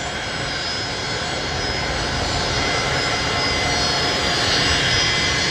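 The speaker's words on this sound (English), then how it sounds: "Those Rolls-Royce Tays making a racket." Rolls-Royce Tay jet engines on an aircraft at Brisbane Airport roar loudly and continuously nearby, a dense broadband blast with a high whine that swells slightly throughout.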